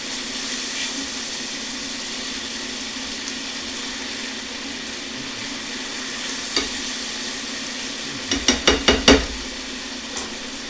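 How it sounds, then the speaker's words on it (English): Garlic sautéing in a pan while cooking clams casino, a steady close sizzle with a few sharp utensil clinks and scrapes near the end, no talking. "we want to go ahead and saute this. Until the garlic is fragrant"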